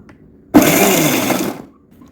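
A mixer grinder on pulse mode blitzes dry-roasted spices with a little sesame oil in one loud, whirring burst of about a second that starts abruptly and cuts off to near silence.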